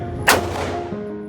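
One sharp handgun shot cracks at a concealed carry firing range, loud and close, followed by a short decaying echo.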